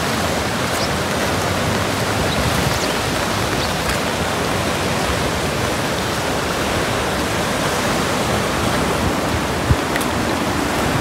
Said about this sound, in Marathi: ही बघा आमच्या कळंब गावची नदी.